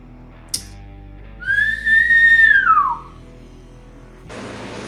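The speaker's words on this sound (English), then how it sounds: "you hear a very familiar whistle" A single clear whistle in a tabletop fantasy role-play scene, a rising-then-falling melodic note lasting over a second, heard alone and moderately loud against a quiet background.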